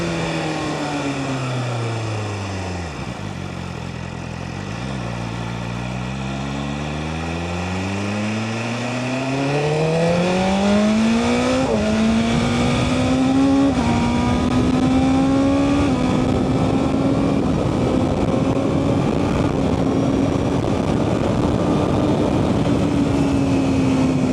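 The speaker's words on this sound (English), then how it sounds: "this engine revs so fast" A BMW M1000RR superbike engine revs hard and loud up close, its pitch dipping and then climbing steadily toward a high, sustained whine.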